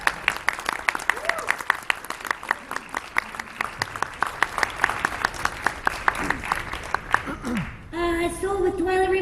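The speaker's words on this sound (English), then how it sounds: "Applause." Audience clapping at a live comic book reading at a fan convention, a steady patter of many hands that is crisp and fairly close, fading toward the end as a voice and some tonal sounds come in.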